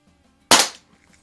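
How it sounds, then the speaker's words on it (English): A single sharp shot from a Smith & Wesson 79G revolver with an 8-inch barrel, a crisp crack with a short decaying tail, standing alone in otherwise quiet surroundings. "I like that revolver. That is so nice to shoot."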